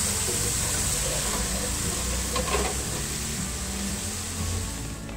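Half a cup of water hits a hot kadhai of spiced paste and yogurt for an achari tinda curry, giving a loud, steady hiss and sizzle that holds for several seconds with no talk.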